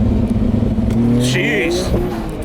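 A Nissan GT-R fitted with anti-lag pulls hard from inside the cabin, its engine note loud and steady, then rising in pitch with a burst of higher whooshing noise midway, while people talk over it.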